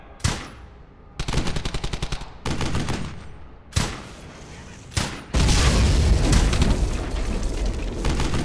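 Gunfire in the World War II shooter Brothers in Arms: Hell's Highway: loud rattling machine-gun bursts and single rifle cracks in rapid, overlapping volleys, building to a sustained, dense barrage of shots and booms.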